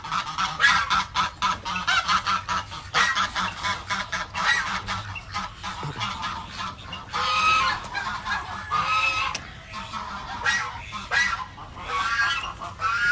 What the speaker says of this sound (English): Don't mind all of our Sebastopol geese that we do have in here. They are a little loud